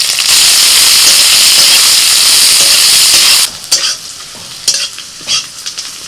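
Whole cumin, dried chillies, chopped garlic, slit green chillies and chopped onion frying in a pan, a loud hissing sizzle that drops off sharply partway, followed by quieter sputters and stirring clatters.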